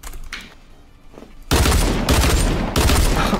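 Gunfire in a video game: faint shots first, then a loud, dense burst of rapid firing that pauses briefly and resumes.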